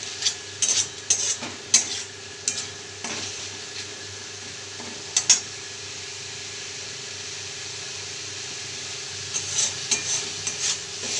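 Masala stir-fries in a pan for a rohu fish kalia, with a steady sizzle and repeated scraping, clinking strokes of a spatula against the metal, coming in bursts near the start and again toward the end.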